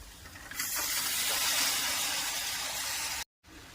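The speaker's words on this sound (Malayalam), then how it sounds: "കടല വേവാൻ ആവശ്യമുള്ള വെള്ളം ഒഴിക്കണം" Water pours into a pan of chickpeas fried with coriander and other spice powders for a chickpea curry, a steady close splashing hiss lasting about three seconds before stopping.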